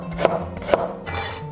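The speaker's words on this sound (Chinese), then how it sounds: "姜切片，" A knife slices ginger on a cutting board, two crisp chopping knocks about half a second apart, followed by a soft scraping rub, close and clear with no talk.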